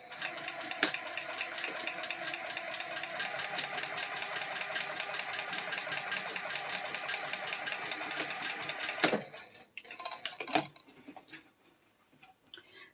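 A sewing machine fitted with a walking foot stitches a seam for about nine seconds in a fast, even whir of needle ticks, then stops, leaving a few scattered clicks and handling noises nearby.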